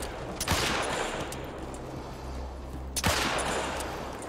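Two loud gunshots in the hunting game theHunter: Call of the Wild, about two and a half seconds apart, each a sharp crack with a rolling echo over a steady outdoor ambience.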